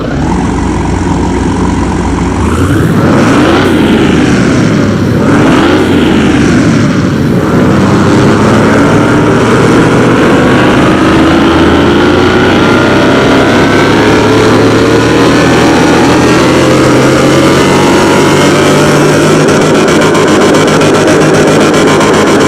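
A car engine in Car Mechanic Simulator 2021 revs hard on a dyno, two sharp rising and falling revs followed by a long sustained climb in pitch, loud and close with no talk.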